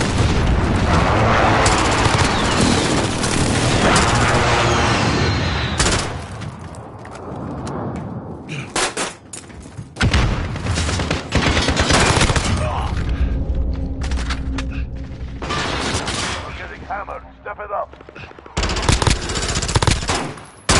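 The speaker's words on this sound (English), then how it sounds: "Precision airstrike inbound." Rapid machine-gun fire and heavy booms from a precision airstrike fill a Modern Warfare video game match, loud and nearly continuous with brief lulls, while a player talks over the action.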